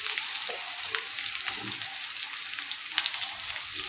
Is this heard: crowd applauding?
no